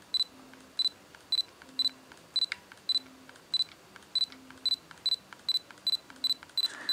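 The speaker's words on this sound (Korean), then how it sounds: "거의 반셔터를 누르자마자 반응하는 굉장히 빠른 AF 성능이 상당히 돋보입니다" Olympus OM-D E-M10 mirrorless camera autofocusing on repeated half-presses of the shutter, a steady series of about fifteen quiet, sharp focus-confirmation beeps and faint lens-motor whirs at regular intervals.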